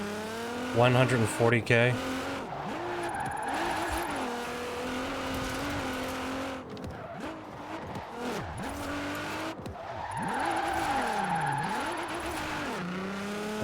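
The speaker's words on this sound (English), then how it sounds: "Now let's really shred those tires." A drifting car in Forza Horizon 4 squeals its tires in long wavering howls over a revving engine, the screech rising and falling through repeated slides, loud and close, while someone talks over it.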